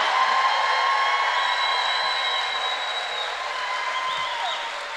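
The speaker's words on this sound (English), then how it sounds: "I need some loud clapping, yelling, cheering." A crowd at a chamber of commerce teacher appreciation event bursts into sustained loud applause, dense clapping with whistles and cheering mixed in, holding steady and easing only slightly over several seconds.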